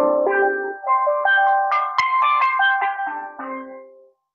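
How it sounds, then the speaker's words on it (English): A steel pan from Trinidad and Tobago plays a bright melodic run of ringing, bell-like notes, clear and close, before the final note fades away. "the steel pan, which is an instrument from Trinidad and Tobago"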